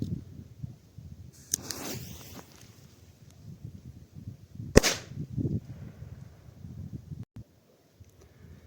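A single sharp crack from a small Dum Bum Nano firecracker bursts out midway through the clip, standing alone against an outdoor rustle and light wind noise.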